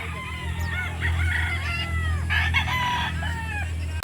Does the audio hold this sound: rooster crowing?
yes